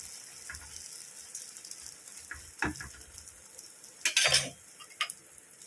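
A holige (obbattu) sizzling on a pan as it is flipped, a soft, low sizzle with light taps, then a brief louder scrape and clatter of the turn.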